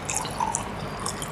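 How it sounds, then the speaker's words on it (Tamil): Hot water near 100 degrees Fahrenheit, about 200 ml, is poured into a vessel, a brief close splashing and dripping trickle with no talk. "தண்ணியை நிரப்பிட்டு"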